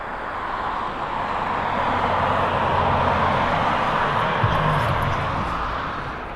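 Jet cargo aircraft departing East Midlands Airport at golden hour, a broad steady roar swelling gradually and holding at a distance, then easing slightly toward the end.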